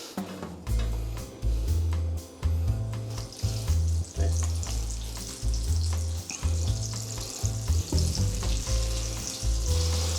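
Food sizzles and fries loudly in a pan close up, with repeated stirring and scraping that produce a rhythmic pulsing hiss, after rice has finished cooking; no talking.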